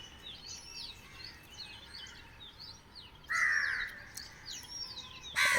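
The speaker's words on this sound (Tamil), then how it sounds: "மறுபடியும் நம்ம அந்த காக்கா அவரோட நண்பரை கூட்டிகிட்டு வந்திருக்காப்புல." Crows caw repeatedly over steady outdoor background noise, with louder, closer calls near the middle and at the end.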